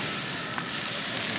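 Butter sizzles in a hot pan at a remote car-camping cookout, a brief, steady close-up hiss and crackle of frying with no talk.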